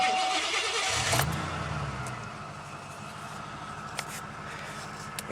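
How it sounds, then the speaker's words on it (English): A 1988 Mercury Grand Marquis engine with glass pack mufflers turns over and starts around the one-second mark, then settles into a steady, low idle rumble up close. "See if you can get this engine noise in the video."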